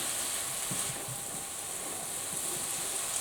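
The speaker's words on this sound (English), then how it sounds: "you can hear when the temperature drops, the sizzling goes lower" Stir-fried rice sizzles steadily in a hot pan, a continuous close bright hiss with soft scraping and stirring knocks underneath, no voices.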